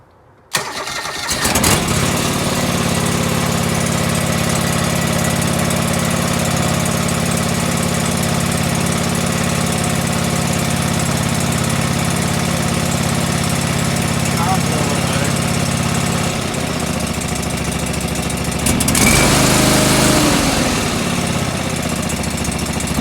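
John Deere 445 lawn tractor engine cranks and fires at just below half throttle, then settles into a steady, loud mid-pitched idle with a brief rev change near the end, no talking over it.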